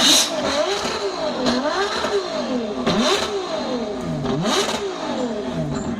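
A powerful supercar engine revs repeatedly into the red line, climbing and dropping in pitch over and over, loud and close with no talking, at an outdoor supercar parade.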